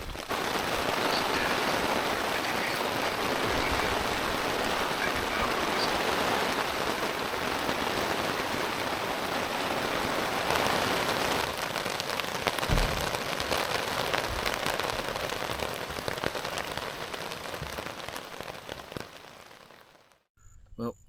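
Steady rain patters on a hammock camp tarp in the woods on a spring overnighter, a dense continuous hiss with scattered louder drops, fading near the end, with faint talk in the background.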